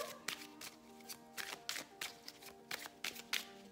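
Oracle cards are shuffled and drawn by hand during a French tarot-style reading: a run of crisp, close riffling snaps and taps in an uneven rhythm, without speech.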